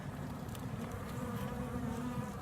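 A dense, continuous buzz of many honeybees, including drones, up close on a hive frame, a steady low drone with no voices.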